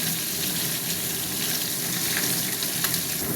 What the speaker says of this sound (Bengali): হালকা ভাজা হতে থাক